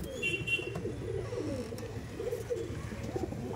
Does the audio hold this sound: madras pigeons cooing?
yes